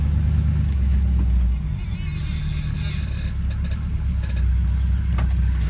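An old project truck engine runs with a deep steady rumble, dipping and rising as it shifts gears, a loud close drone with a brief higher whine midway.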